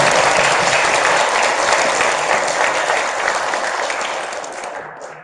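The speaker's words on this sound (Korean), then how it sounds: "하나님께 영광의 박수 한번 올려드리겠습니다" An audience at a Christian school vision camp lecture breaks into loud, sustained clapping that holds steady and then slowly fades toward the end.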